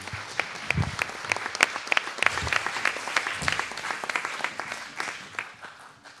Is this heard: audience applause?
yes